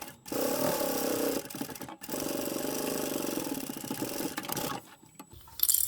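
A sewing machine runs back and forth while back stitching a simple tote bag, a close mechanical whirring in a few bursts separated by short pauses.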